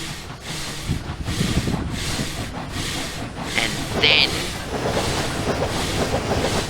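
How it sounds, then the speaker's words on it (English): In Trainz Railroad Simulator 2019, a Victorian Railways V class locomotive backs wagons during shunting: a rumbling, hissing train with rhythmic clickety-clack and periodic soft puffs, with someone talking briefly over it. "So we'll just go and back these wagons onto the train, and then we'll set off to simulate the shunting"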